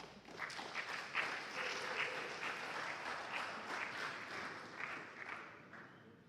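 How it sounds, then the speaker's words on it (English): An audience at a school quiz contest breaks into sustained applause, a dense, steady wash of clapping from many hands lasting several seconds with no talk over it. "Clap for them."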